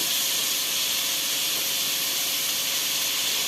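Cauliflower florets fry in a pan with capsicum for a home-style cauliflower, capsicum and potato curry, giving a steady, close, unbroken sizzling hiss with no voices.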